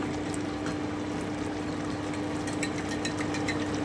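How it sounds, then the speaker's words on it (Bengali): A yogurt mixture is poured into a pot of cooking chicken rezala, giving a steady, soft liquid pouring and bubbling sound with no talking. "এবারে আমি দইয়ের ঘোলটা দিয়ে দিচ্ছি"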